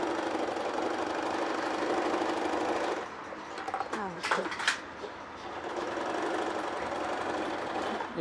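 An Usha Stitch Queen sewing machine sews a picot stitch with a steady, fast mechanical whirr and rhythmic clatter that briefly eases mid-way before running on, while a person talks over it.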